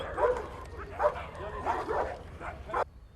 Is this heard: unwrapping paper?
no